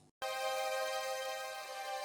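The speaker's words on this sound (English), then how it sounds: "the first part of the sample is just those two notes with a bunch of effects on it" A two-note synth sample for a hard trap beat, drenched in effects, sustains as a bright, steady tonal drone after a short gap, alone and fairly quiet.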